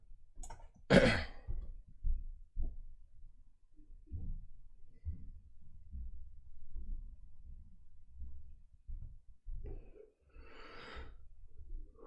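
A man in a quiet room coughs once sharply near the start, then clears his throat and breathes heavily, with soft rustles and another breathy throat sound near the end.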